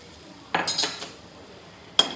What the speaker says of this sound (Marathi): तर त्याच्यामध्ये हे बदाम वगैरे काजू बारीक केलेले टाकून देते।